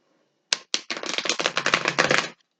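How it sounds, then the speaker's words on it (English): Two quick snaps followed by a rapid riffling flutter, like cards being shuffled close by, lasting under two seconds before stopping. "Give it a couple shuffles"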